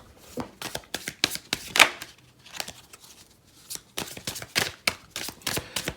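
Tarot cards being shuffled by hand, with a rapid run of crisp riffling flutters and slaps repeating in uneven bursts, close and fairly loud, no talking.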